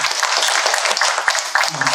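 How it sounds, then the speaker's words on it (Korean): A prayer-breakfast congregation applauds in a dense, continuous patter of many hands, loud and close throughout, with a brief voiced sound near the end. "격려의 박수 부탁드립니다"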